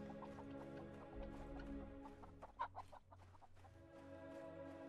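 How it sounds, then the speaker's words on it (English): Chickens cluck softly in the distance in Mount & Blade Warband, a few short calls scattered over steady game ambience and background music. "And apparently there's chickens somewhere"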